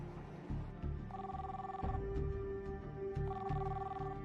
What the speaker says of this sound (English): Tom keeps trying her cell phone.